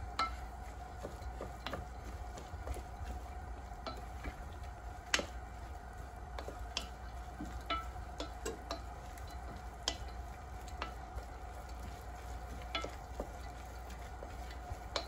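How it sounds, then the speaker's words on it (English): Garlic with leeks gets stirred in a pan, producing quiet, steady sizzling under soft repeated scraping and light ticks from the utensil against the pan. "And we're just gonna stir this."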